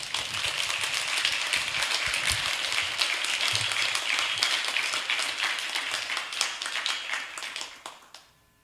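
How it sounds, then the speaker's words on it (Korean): A church congregation at a Sunday service applauds to welcome a missionary to the front, dense sustained clapping that fills the room and fades out near the end. "나오실 때 박수로 환영해 주시기 바랍니다"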